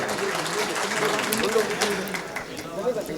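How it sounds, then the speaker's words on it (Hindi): Audience applause welcomes Girish Bhau at an All India Mushaira in Warud, Amravati, a dense continuous patter of clapping from a crowd under a voice speaking. "हमारे आप सब तालियों से इस्तकबाल करें इनका"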